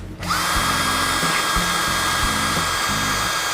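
A Bosch GSB 180-Li cordless drill at speed one spins up abruptly and then holds a loud, steady whine as it bores a hole through PVC under light pressure.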